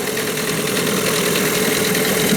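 A Hangkai 9.8 outboard motor is being run in on about one-third throttle in a test barrel, giving a loud, close, steady droning whir with a continuous rattle and no voices.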